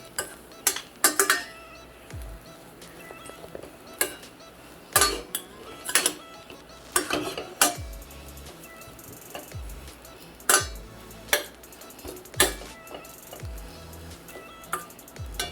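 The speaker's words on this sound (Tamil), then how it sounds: "நல்லா வதக்கிடுங்க. நல்லா நெய் ஸ்மெல் வருது பாருங்கள்." Bread pieces sauté in ghee in a pan for halwa, with sharp metallic clinks and scrapes of a spatula against the pan at irregular intervals over a low background.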